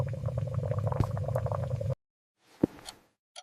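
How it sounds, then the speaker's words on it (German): Water boiling in a pot gives a dense, bubbling rumble for about two seconds, then cuts off, followed by a few faint pops and one sharp bubble burst. "Ich koche Wasser."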